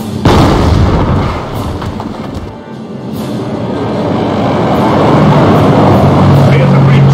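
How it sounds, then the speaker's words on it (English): V1 rocket strike explosion in the Company of Heroes video game, a loud booming blast at the start that rolls into a long low rumble, with voices speaking over the battle noise. "V1 rocket is en route to target."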